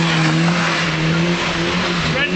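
A loud engine roars steadily at close range while tires squeal with a sustained high whine as a car turns.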